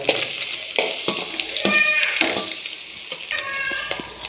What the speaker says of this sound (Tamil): பார்த்துட்டிங்கன்னா நல்லா ஃப்ரை ஆகிட்டு இருக்குது